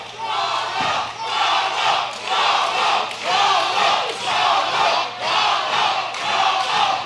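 A boxing crowd at a main event cheers and roars in loud surging waves, swelling and dipping repeatedly, with no clear talk over it.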